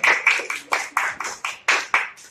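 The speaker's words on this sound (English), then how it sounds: "Give a round of applause." A small group at a school English lab session claps in a quick burst, with about ten distinct, fairly close claps in an uneven rhythm.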